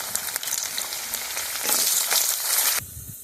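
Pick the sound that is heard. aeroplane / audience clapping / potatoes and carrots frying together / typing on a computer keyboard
potatoes and carrots frying together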